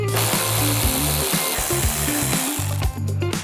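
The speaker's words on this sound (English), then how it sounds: "Go ahead and remove the 2 bolts here and here." A ratchet or power tool works the bolts inside the fender well of a Ford F-150, giving a continuous loud whirring with rhythmic stepped pulses that runs nearly throughout, briefly dipping near the end.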